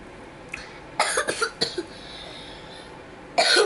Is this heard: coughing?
yes